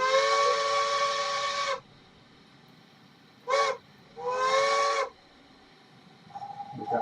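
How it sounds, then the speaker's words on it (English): A Bachmann model train sound decoder plays a steam whistle: a long sustained blast, then a short toot and a second longer blast, loud and clear with no talking. "we got the whistle."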